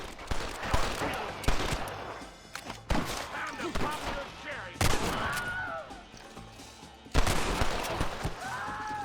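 Gunfire in the Red Dead Redemption video game: several sharp shots and short bursts at intervals, loud and close, with some brief speech between them.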